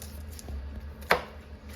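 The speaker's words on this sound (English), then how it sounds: "Meanwhile, we're gonna chop up this onion and we're gonna get ready." A kitchen knife cuts through an onion on a cutting board, with a few soft taps and one sharp, crisp chop standing out against faint background noise.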